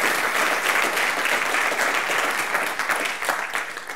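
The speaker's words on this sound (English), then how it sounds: "Let's give them a round of applause right off the bat for them." Steady audience applause at a climate science communication award event, a dense, even wash of clapping lasting the whole few seconds without talk.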